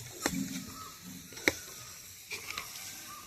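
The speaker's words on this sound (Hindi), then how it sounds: "तो स्प्रे से ही डाल रही हूँ आज मैं पानी" A handheld spray bottle mists water over dry garden plants, such as cluster bean, lemon and mango saplings. Several brief trigger clicks each carry a short hissing spray, close and fairly quiet.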